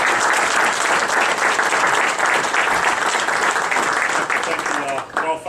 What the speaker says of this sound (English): let's give our coaching staff another round of applause.